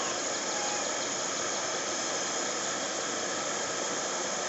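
A Jetboil Flash backpacking stove burner turned up, giving a steady, close broadband roar and hiss that holds even throughout with no talk.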